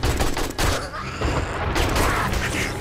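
Dense, loud bursts of AK rifle fire during a chaotic horde night in 7 Days to Die on console, sustained rapid shots with booming impacts and mechanical clatter throughout.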